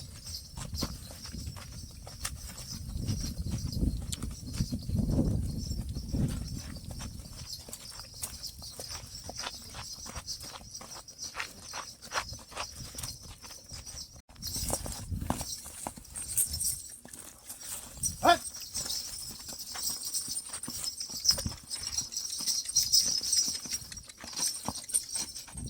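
A mare being ridden outdoors, hooves clip-clopping in a steady walking rhythm at close range, with faint background noise and no talk.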